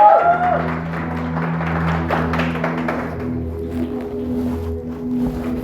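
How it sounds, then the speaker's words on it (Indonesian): Congregation applause at a church service, a burst of clapping that starts loud and fades over a few seconds, with sustained background music playing underneath. "Boleh kasih tepuk tangan untuk Kak Yesi."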